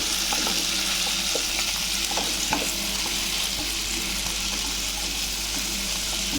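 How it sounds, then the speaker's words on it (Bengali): Prawns fry in hot oil in a wok with a loud, dense, continuous sizzle and faint stirring scrapes, steady throughout with no talking. "তেল গরম হয়ে গেছে চিংড়াগুলো দিয়ে দিলাম"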